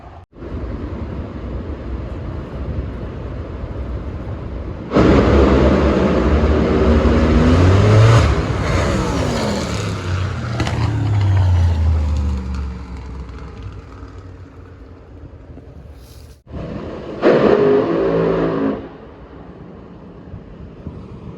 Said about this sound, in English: These cars are right now a half a mile away.